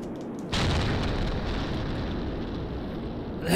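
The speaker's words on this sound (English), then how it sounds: "That is an epic explosion." Explosion in the flight game SimplePlanes, a sudden loud boom that breaks into a long rumbling roar, fading slowly with a second burst at the very end, and no voices over it.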